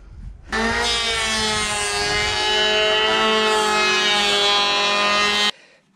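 A power saw cuts boards on a Moscow building site, giving a loud, steady, high motor whine that holds for about five seconds and then cuts off, with no talking.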